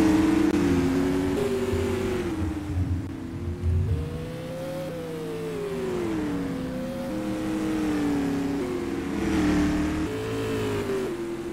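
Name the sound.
race cars running on a track during heat race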